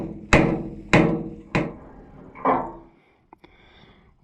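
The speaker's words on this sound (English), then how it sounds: "a few taps with just my trusty snap-on hammer," A Snap-on hammer strikes an old tractor hub, an Oliver 60 on rear steel, in four sharp, loud metallic taps spaced about half a second apart, followed by a couple of faint knocks.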